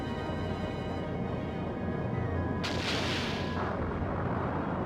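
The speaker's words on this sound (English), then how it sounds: "we're going to start shooting our sub-cannons and our advanced cannon" Airship cannons firing in the Skies of Arcadia video game: a dense, continuous roar of booming blasts with a sharp burst of bright noise partway through, loud and unbroken.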